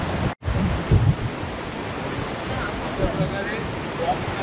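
The river below Bahubali waterfall rushes with a steady broadband roar, heard close and loud and buffeted by wind on the microphone.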